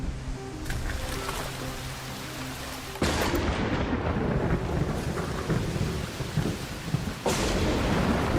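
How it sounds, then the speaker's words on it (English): Thunder from an electromagnetic storm in a video game rumbles over steady rain, with a sharp crack and a heavy rolling boom partway through and another strike near the end, loud and enveloping. "an electromagnetic storm is currently raging over topside"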